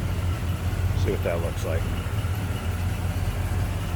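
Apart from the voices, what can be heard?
1979 Pontiac Trans Am engine idling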